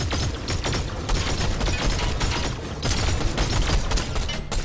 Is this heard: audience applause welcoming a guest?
no